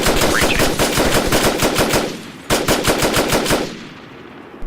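Rapid automatic gunfire during a platoon training exercise sounds as loud, close bursts of evenly spaced shots, broken by a brief pause and then a second burst that dies away, with no talking.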